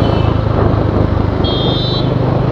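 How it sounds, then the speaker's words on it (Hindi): A 2019 Bajaj Dominar 400 motorcycle engine running, a deep, heavy low rumble with a steady pulsing throb, loud and close throughout, with a thin high whine briefly appearing partway through. "तो इस बाइक का जो साउंड है वो काफ़ी मतलब बेस है उसमें थोड़ा भारी भरकम सा है।"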